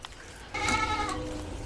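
A goat bleats loudly and close by, one long quavering call rising over steady background noise beside a goat milking stand.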